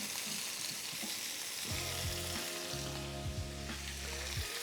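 Chicken thighs frying in a hot pan give a steady, close sizzle and spatter, with no voices.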